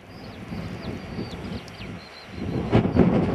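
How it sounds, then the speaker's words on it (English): Gusting wind buffets the microphone at an RC plane flying field, a steady broadband rumble that swells louder toward the end, with no voices. "Now the wind's picking up, now we're getting some action."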